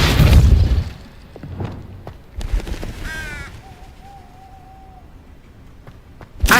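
A Depulso force spell cast in the Hogwarts Legacy video game: a loud burst at the start, then softer magical effects with a thin sustained tone, and another sharp burst right at the end.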